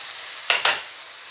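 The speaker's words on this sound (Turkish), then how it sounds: "Şimdi tekrardan güzelce bir 1-2 dakika daha böyle salçasıyla baharatlarıyla kavuracağım" An eggplant filling with tomato paste and spices is sautéed and stirred in a pan, two quick scraping stir strokes over a soft, steady sizzle.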